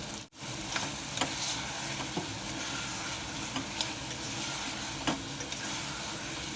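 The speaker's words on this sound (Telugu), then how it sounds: "కలుపుకొని ఇలా 1 నిమిషం పాటు ఫ్రై చేసుకుందాము." Spices with ground coriander, garam masala and salt fry in a pan for a country-chicken dish, a steady close sizzle broken by occasional scraping stirs of a spoon, with no voices.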